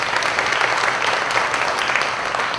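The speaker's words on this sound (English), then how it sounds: "Let's give them a round of applause." An audience at a community luncheon gives steady, dense applause that stays even and fairly loud throughout.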